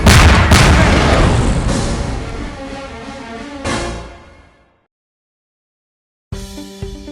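A heavy missile blast in an airplane battle video game opens with a loud boom that rolls off and fades over several seconds into silence, then a short burst of other game sound cuts in.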